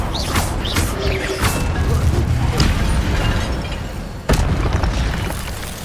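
Incendio fire spell blasts in the video game Hogwarts Legacy, booming bursts over a constant roar of combat noise, with a sharp crashing impact near the end.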